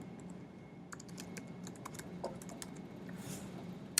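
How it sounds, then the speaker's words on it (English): Computer keyboard keys tapped in short, light bursts while entering a web address, fairly faint and close, with a steady low background hum and no speech. "So as long as I have my URL, I can type my URL in here."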